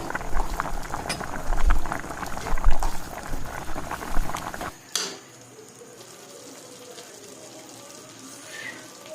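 Bengali sweet pulao in a pot is stirred, with bubbly, wet churning and scraping up close for about five seconds, then only a faint low simmer remains.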